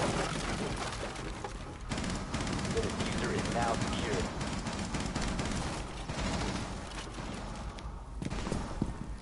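Rapid automatic gunfire from a tactical shooter video game rattles continuously in dense bursts, with players' voices talking over it.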